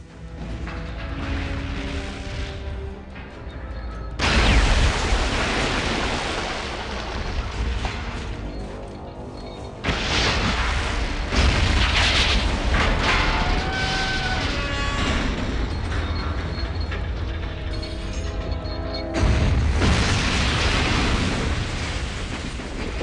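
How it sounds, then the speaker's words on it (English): A military base explodes in a Fallout video game cutscene: a loud, sustained roar of blasts and crashing debris that rumbles on for over twenty seconds, with sharp surges and a tonal game soundtrack woven underneath. "After escaping the military base, you get a cutscene of it exploding"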